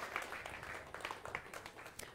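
Audience applause greets a coral restoration expert at an evening presentation: a soft, steady wash of many hands clapping, heard from some distance and fairly quiet throughout.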